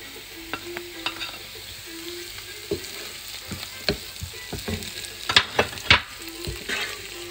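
Yellow bell pepper frying in a pan, with a steady soft sizzle broken by sharp clicks and scrapes of a utensil stirring against the pan, close and without speech.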